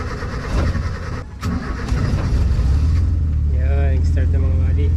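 A car engine cranks and catches, then settles into a steady, loud idle that holds at one speed, with a fault keeping the revs stuck and a coolant top-up still pending, while someone talks over it.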